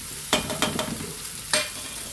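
Coconut goes into a pan of frying vegetable paneer curry, giving a steady sizzle with a few sharp stirring scrapes spaced through it, close by and with no talk.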